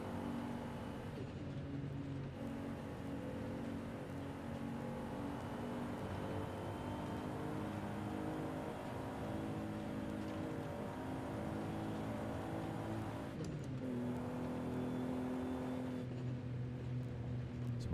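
A car with a 2-liter 1JZ engine pulls at wide open throttle, a steady droning engine note holding and climbing, with a brief dip before it pulls again, heard from inside the car.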